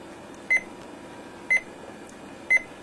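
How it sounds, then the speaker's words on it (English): Alarm clock on a wake-to-radio unit beeping three times in short, evenly spaced bursts about a second apart, clear and moderately close over a faint background hiss. "Here's your alarm"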